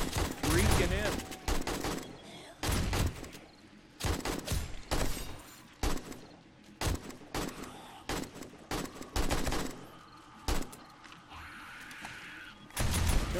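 Gunfire on a horde night in the video game 7 Days to Die with the Darkness Falls mod, aimed at zombies: loud, close bursts of shots in irregular clusters, separated by short pauses and mechanical reload clicks, with occasional talk.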